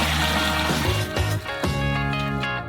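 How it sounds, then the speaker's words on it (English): Water poured into a large saucepan for cooking crayfish, a continuous close splashing fill that shifts in pitch as the pan fills, briefly interrupted near the middle. "Pour some water into a large saucepan."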